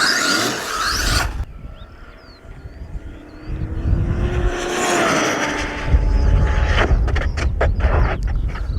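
A high-powered RC car built for over 100 mph screams past at full throttle, its whining motor rising and falling as it nears and recedes, with tire squeal and rattling bursts toward the end.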